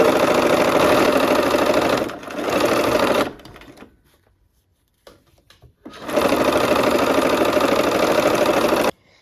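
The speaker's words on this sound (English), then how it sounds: "Let's sew these pieces together." A sewing machine stitches quilt pieces together for a barn quilt sampler, running in two long, steady bursts with a pause in between. The middle stretch is nearly quiet, and there is no talk.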